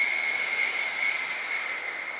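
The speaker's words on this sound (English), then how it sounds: "I told you there's going to be trains." A train passing at a distance, a sustained metallic rail squeal with a steady whining tone holding over a soft rumble, heard alone without talk.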